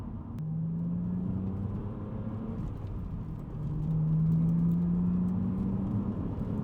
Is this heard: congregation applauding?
no